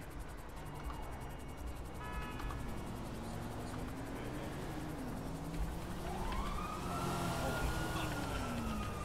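Ambulance siren in a video game, a wailing tone sweeping up and down at moderate level under a busy mix of traffic and engine noise, with faint voices in the background.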